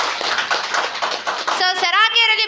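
Audience clapping at a gathering, a quick patter of hands in the first half before a voice starts talking over the end.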